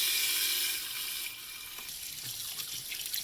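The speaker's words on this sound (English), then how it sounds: "then we're just going to rinse her good" Tap water runs steadily over a raw turkey in a kitchen sink, a loud continuous splash and hiss that softens slightly midway, with no voices present.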